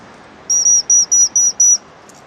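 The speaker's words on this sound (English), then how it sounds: "this is my main dog whistle" A dog whistle is blown in six quick, sharp, shrill blasts, evenly pulsed and close, followed by quiet.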